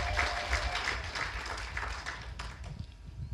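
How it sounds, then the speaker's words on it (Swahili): Audience clapping at a ceremony launching new staff buses, a moderate crowd applauding steadily, somewhat distant and fading slightly toward the end, with no speech over it. "Tupige makofi jamani."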